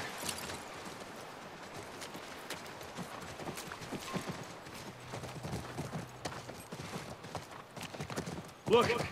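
Horse hooves clip-clopping in the post-apocalyptic action video game The Last of Us Part I, a steady moderate trot close by under ambient noise, ending with a louder burst of movement.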